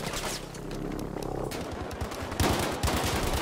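Rapid bursts of gunfire crack through a Battlefield 5 multiplayer match in Rotterdam, repeated automatic fire with loud close shots and a heavier burst near the end, over constant battle noise.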